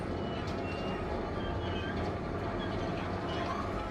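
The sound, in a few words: subway train ride in the video game Syberia 3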